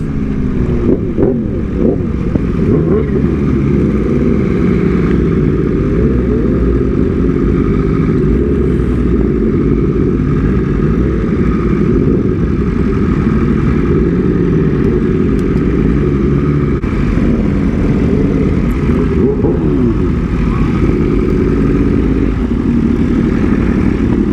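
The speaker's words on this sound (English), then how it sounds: "there's quite a few bikes out here" Several motorcycles idle and rumble nearby at a large motorcycle meet in Atlanta, a steady loud engine drone with shifting revs and no talking.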